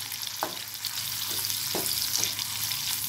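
Agathi keerai leaves fry oil-free until crisp, giving a soft steady sizzle with several faint scraping stirs spaced through the clip, close and quiet with no talking.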